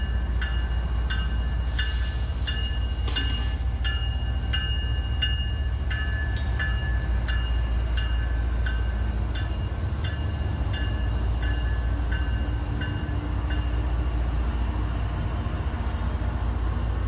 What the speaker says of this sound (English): M452 is a daily Miami to Waycross manifest train